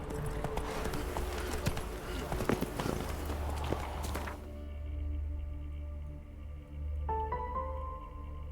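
Horse hooves in The Witcher 3 video game, a steady galloping clip-clop under game music and ambience, then the hoofbeats drop away as a sustained tonal drone carries on; a voice speaks briefly.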